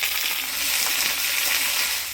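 Potatoes, brinjal and beans dropped into hot oil tempered with dried red chilli, bay leaf and panch phoron, a loud, dense, steady hissing sizzle filling the whole stretch up close.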